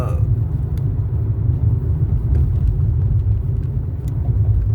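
Heavy electric car tyres grinding on the road, a loud, continuous low rumble close by, with no engine note and only faint higher scuffs over the steady roar.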